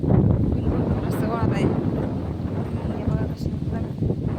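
Strong wind buffets the microphone in a steady, loud rumble throughout, with a voice speaking faintly in the background.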